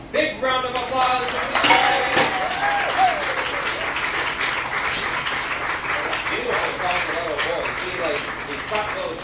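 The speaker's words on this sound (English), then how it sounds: "Big round of applause" Audience applause at a glassblowing demonstration, a steady wash of clapping that carries through most of the stretch. Clinking and tonal glass or metal sounds and voices are mixed in with it.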